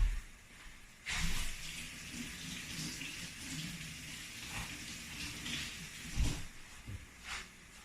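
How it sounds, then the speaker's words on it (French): Hands being washed under a running kitchen tap while cooking a vegetarian shepherd's pie, a steady close water rush with a few louder splashes as the hands move through the stream; no talking. "Hop, on se lave les mains."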